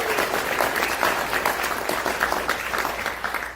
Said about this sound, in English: Let's have a round of applause for the PBS volunteers.